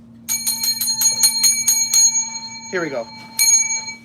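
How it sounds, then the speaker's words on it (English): A small hand bell rings in a rapid series of bright metallic strikes, then one more ring after a short pause; someone speaks briefly between the rings. "it's not a live unless we have the Photo Booth 101 bell"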